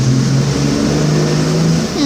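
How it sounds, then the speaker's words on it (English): Road traffic rumbles continuously in the background, a low, steady drone of passing vehicles that stays loud and close for the whole moment. "There's a lot of traffic on the road"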